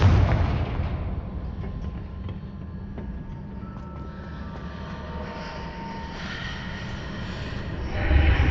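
Confringo fire spells exploding in Hogwarts Legacy, heavy rumbling blasts that swell at the start and end over a sustained low roar, with no voices.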